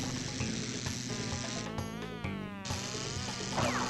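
Bees buzzing in the video game Crash Bandicoot 2: a steady, close insect drone with wavering pitch running throughout, mixed with game music and effects, no talk.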